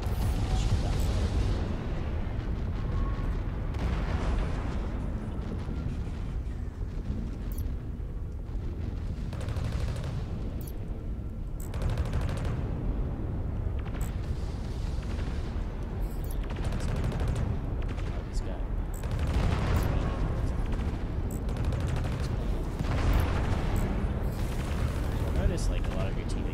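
Ship gunfire in the space combat game Fractured Space, a dense continuous barrage of booming shots and blasts with sharp cracks, loud and sustained, while a voice talks over the action.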